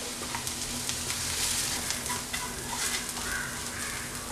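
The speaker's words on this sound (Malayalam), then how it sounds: "ഇതെല്ലാം നന്നായിട്ട് മിക്സ് ചെയ്ത് കൊടുത്തിട്ട് അതിൻ്റെ പച്ചമണം മാറുന്നത് വരെ ഇതൊന്ന് മൂപ്പിച്ചെടുക്കാം." Turmeric, chilli, meat masala and pepper powders being sautéed in a pan for a prawn filling, giving a continuous gentle sizzle with soft stirring scrapes throughout, close and even, with nobody speaking.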